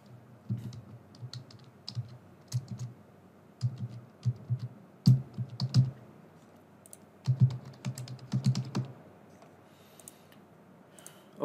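Keys clatter on a computer keyboard as a test contact's name is typed in, quick bursts of clicks with short pauses, fairly close and steady, no voices.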